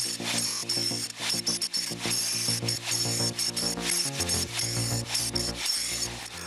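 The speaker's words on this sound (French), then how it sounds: "Un petit coup de nettoyage des pierres du puits." A wire brush scrubs the stones of a dry-stone well, a close, loud rasping rub in quick repeated strokes with short pauses between them, alone without talk.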